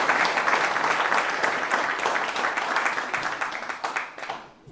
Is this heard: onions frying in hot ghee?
no